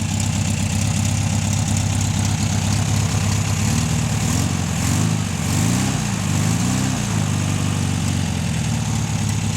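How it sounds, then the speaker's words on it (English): An old Volkswagen engine that has sat for ten years idles loud and close, its rough, steady rumble broken by uneven sputtering bursts from the exhaust as the revs waver. "Showering me with rust and shit out the exhaust."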